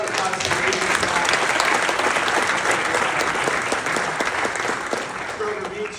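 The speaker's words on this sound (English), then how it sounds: "So let's give a round of applause to the" Sustained audience applause fills a civic community gathering, a dense, steady wash of many hands clapping that holds loud from start to finish, with some voices faintly mixed in.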